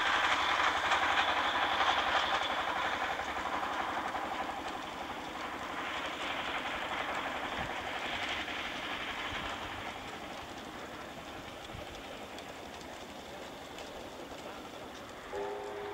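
A train runs across a viaduct on the Jitong railway in China, a steady broad rumble with faint rhythmic clatter that slowly eases, heard from a distance with no talk over it.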